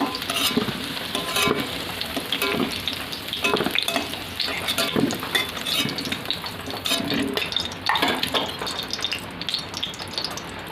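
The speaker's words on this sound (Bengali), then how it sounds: "তো ডিমগুলো আমি ভেজে নিচ্ছি" Three boiled eggs fry in oil in a wok in a home kitchen: a steady close sizzle with repeated stirring and scraping, and no voices.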